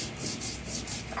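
Chilies are ground on a flat grinding stone, giving a steady, close, gritty rubbing with a few rhythmic back-and-forth strokes over about a second, with no voices.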